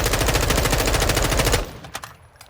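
An M4 rifle firing in a video game, a rapid, loud, evenly spaced full-auto burst lasting about a second and a half, then cutting off into a few faint echoing tails and clicks.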